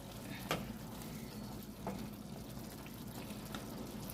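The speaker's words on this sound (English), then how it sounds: "Now I'm gonna go ahead and just stir all my seasoning into my meat." Ground meat seasoned with paprika and oregano for lasagna, stirred in a pan: a soft, steady sizzle with a few faint scraping stirs of the spoon, quiet and close.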